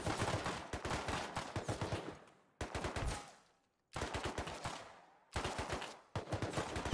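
Rapid automatic gunfire from the survival video game Rust, loud and close, coming in several dense bursts separated by short silent gaps, with no talking.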